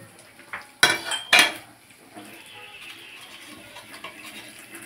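A metal spatula clangs twice against a pan while chicken and spices are stirred and fried down for chicken kosha, followed by a low steady sizzle and soft scraping.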